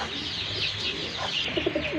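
Several pigeons coo close by in a steady, murmuring chorus of low, rolling calls, with no voices.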